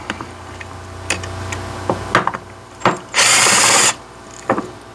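Power driver backing T20 screws out of a Ford 6.0 diesel FICM, heard as several short whirring bursts and clicks with one longer loud buzzing run near the end, close by with no talk.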